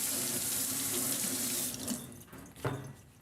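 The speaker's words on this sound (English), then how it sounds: "Just gonna give this spatula a quick rinse." Kitchen faucet running steadily as a spatula is rinsed under it after making coconut cream pie custard, close and full, then the flow is cut off and a few splashes and clinks follow.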